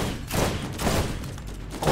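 Gunfire rattles in rapid, loud bursts as a player shoots at a turret in the video game Borderlands, with dense overlapping shots and no pauses.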